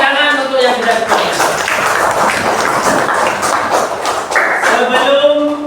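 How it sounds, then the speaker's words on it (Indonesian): A class of pupils at morning lesson time claps hands in a loud, close, continuous burst, with children's voices rising over the clapping at the start and end. "Tepuk tangan untuk yang sudah semangat."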